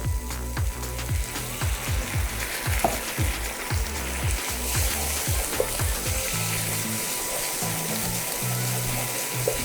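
Onions caramelizing to a dark brown in a frying pan give a constant close sizzle, with a run of low rhythmic knocks early on that fades into steady frying.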